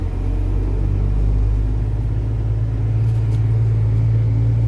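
Car engine pulling steadily in third gear under throttle, a loud continuous low rumble and hum close inside the cabin with no break.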